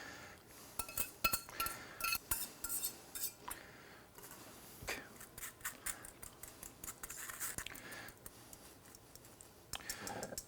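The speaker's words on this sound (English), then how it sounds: "So we're gonna strain it off into a bowl." Saffron beurre blanc sauce is strained into a bowl with a run of light metallic clinks, taps and scrapes of a strainer and utensil against the bowl, close and irregular throughout.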